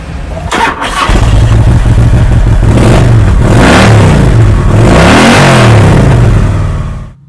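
A 2005 Harley-Davidson Electra Glide Ultra Classic motorcycle, with minor oil weeps at the rocker box gaskets and primary cover, starting up and then revving repeatedly in loud rising-and-falling surges before settling and cutting off.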